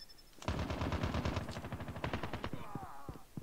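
A rapid automatic burst from a gun in the mobile shooter Call of Duty Mobile rattles out loud and close, then trails into a few scattered single shots.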